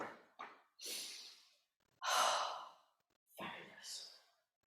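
Tai chi participants breathe deeply in a group class, several loud audible exhales and sighs in a slow, uneven rhythm, close and with no speech.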